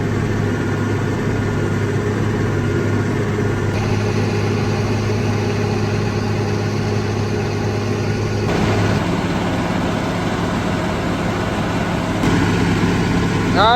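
A tractor engine idles continuously, a steady low rumble with a few faint clanks and shifts in tone; no talking.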